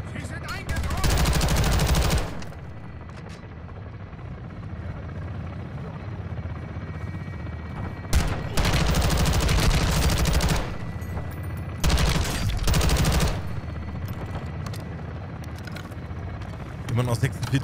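Gunfire in Modern Warfare 2: repeated loud bursts of automatic fire in several volleys, broken by quieter stretches of rumbling background battle noise, with a voice talking through parts of it.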